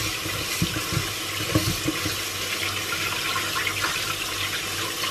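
Running tap water rinsing salted cabbage for coleslaw in a kitchen sink, a constant close hiss and splash with a few brief splashier bumps where the leaves shift under the stream.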